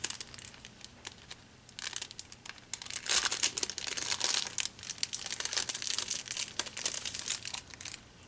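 Plastic and cardboard packaging around a Makeup Geek makeup brush crinkles and crackles up close as it is handled and torn open, in bursts that grow busier after the first few seconds, with no talk.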